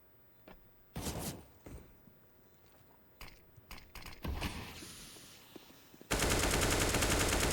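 Gunshots ring out in a Counter-Strike match on the Vertigo map, scattered single shots and short bursts over faint ambience, ending in a loud sustained stretch of rapid fire.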